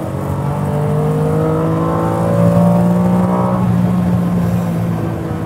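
A Lamborghini Diablo's engine pulls hard under acceleration, a loud, close, sustained roar whose rising harmonic tones climb and hold steadily across the whole stretch with no voices.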